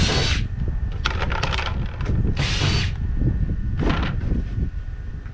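Power drill backing screws out of a pool heater's metal housing during scrapping, loud and close, with repeated whirring bursts and rattling between runs, no talk.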